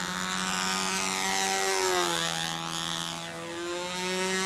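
Small airplane engine idling steadily with a newly enlarged half-inch exhaust, a near, loud droning hum with clear harmonics and a gentle rise and dip in pitch, heard alone.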